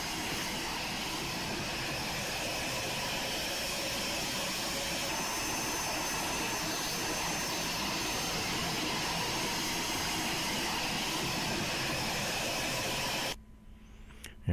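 Eclipse 550 light jet flying in a flight simulator, a steady broadband engine roar and whine holding level and loud, then cutting off abruptly near the end.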